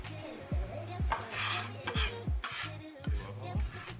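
Cutting board wiped clean while preparing a seafood boil of crab, shrimp and sausage: repeated rasping, rubbing strokes in a steady rhythm, close and fairly loud, each with a low knock, with no talking.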